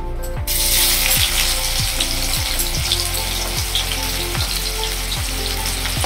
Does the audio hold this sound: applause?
no